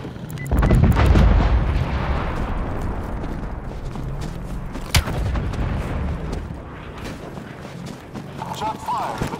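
A single heavy artillery shot booms in a video game mid-clip amid dense battle noise, rumble and a talking voice over radio chatter.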